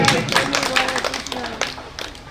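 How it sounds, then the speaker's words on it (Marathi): An audience claps at a health camp event, with scattered, fairly close claps under a voice talking over them. "मान्यवरांच्या जोरदार टाळ्या वाजवायच्या"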